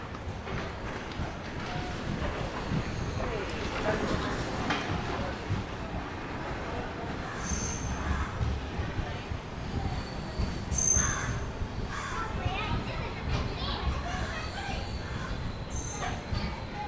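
The Kacheguda–Murdeshwar SF Express pulls out of Dhone Junction, heard from aboard as a steady rumble of wheels on rails with repeated high metallic squeals over the noise, moderately loud and without talk.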